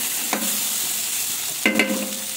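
Potatoes and green peas fry in a pan with a soft steady sizzle, broken by two quick stirring scrapes.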